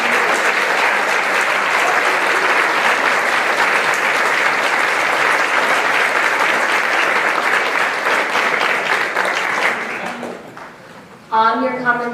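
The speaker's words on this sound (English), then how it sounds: "Please give a big round of applause." A crowd claps loudly and steadily for about ten seconds at a junior leadership graduation, the applause fading out before a voice begins speaking.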